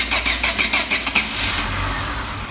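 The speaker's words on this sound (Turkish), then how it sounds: "Tek marş. Aracımız çalıştı." A Renault Megane 1 engine cranks with a rapid rhythmic starter chatter for about a second, then catches on the first try and settles into a steady, loud idle close to the microphone.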